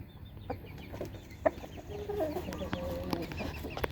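A young rooster about nine to ten months old gives a few soft, scattered clucks and short calls at close range, with faint background noise and no talking.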